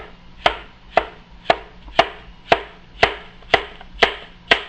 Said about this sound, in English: Just slice this.